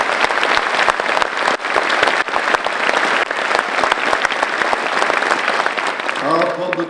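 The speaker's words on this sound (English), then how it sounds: "Give them a round of applause," An audience at a Tidewater Regional Fire Academy graduation ceremony for Virginia Beach fire recruits applauds in dense, sustained clapping, with a voice rising faintly near the end.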